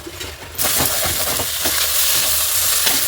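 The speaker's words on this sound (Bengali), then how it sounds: "এখন আরও 2 মিনিট ভেজে নেব" Mashed sidol chutney sizzles and fries steadily in a pan, a constant close crackle with occasional stirring scrapes and no voices.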